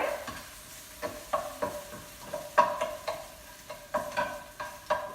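Salt-and-pepper-seasoned food stirred around a hot pan, with a steady soft sizzle under repeated scraping strokes of the utensil at a loose, regular rhythm, close and moderately loud.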